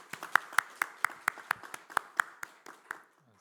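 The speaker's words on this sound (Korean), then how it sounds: "우리 한 번 더 격려의 박수를 부탁드리겠습니다." A church congregation claps during a Wednesday worship service, crisp individual claps in a steady rhythm of about a dozen beats, fairly quiet and fading out at the end.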